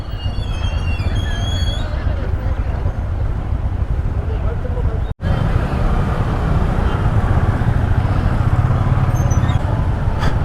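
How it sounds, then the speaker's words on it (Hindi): Busy road traffic in Mandi on Republic Day, a steady loud wash of passing vehicles and engine rumble heard from close by, with horn-like tones early on and a brief dropout midway; a voice speaks over it. "काफ़ी ट्रैफिक है।"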